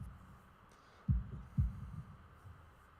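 A heartbeat sound effect in the Katawa Shoujo visual novel game: two deep, low thumps about half a second apart, close and muffled over a soft steady hum, with no talking.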